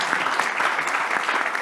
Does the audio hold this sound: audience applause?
yes